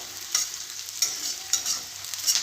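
Onions frying toward golden brown in a pan, stirred with a spoon: a steady bright sizzle with periodic scraping strokes of the spoon about every half second, close and alone.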